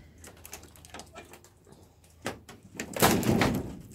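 A greenhouse door for cucumbers being pulled shut, with scraping and rattling leading to a louder, fuller closing sound near the end, close by and heard alone without talk.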